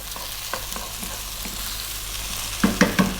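Potatoes with a little salt frying in a pan for Indian shrimp curry, a steady close sizzle with a few spoon scrapes as they are stirred, a cluster of louder clatters near the end.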